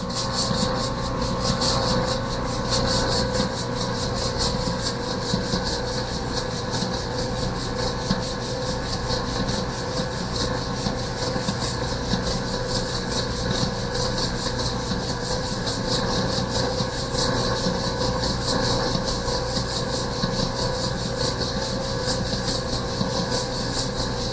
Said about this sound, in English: We start off by turning the mixer to speed 1 and add the water while the mixer is running.